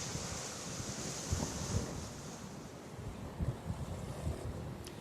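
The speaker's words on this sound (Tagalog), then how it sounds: "medyo may kalakasan din ang bugso ng hangin" Steady rushing wind from a typhoon in Northern Cebu, with gusty swells and low rumbling buffets against the microphone, continuous throughout with no voices.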